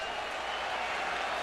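Crowd cheering at a Cleveland Indians ALDS baseball game in 2007, a dense, continuous roar of applause and voices filling the stadium, with no distinct pauses.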